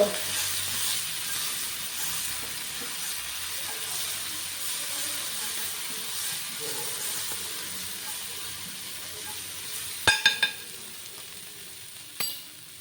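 Pav bhaji masala and chopped coriander fry in a pan, a steady close sizzle and hiss that runs throughout, with a few sharp clinks of a spoon against the pan near the end.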